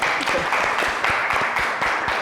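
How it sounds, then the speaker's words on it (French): Audience applause at a French-language talk show taping, a short burst of clustered clapping with distinct individual claps, fairly close and loud. "j'aimerais qu'on applaudisse pour vous d'abord"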